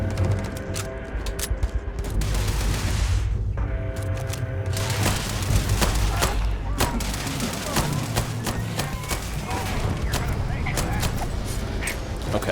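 Rapid bursts of gunfire and heavy booms from a newly picked-up gun in the space game Starfield, crackling repeatedly while a player talks over it.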